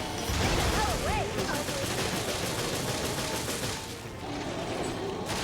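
Rapid bursts of gunfire ring out in the video game Resident Evil, a dense close fusillade lasting several seconds with brief pauses, while a voice speaks over it.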